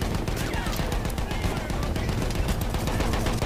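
Battlefield 1 video game combat, with dense rapid machine-gun fire and overlapping shots rattling continuously, loud and close throughout.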